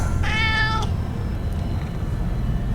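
A cat gives a single drawn-out meow over a low rumbling background, followed by quiet.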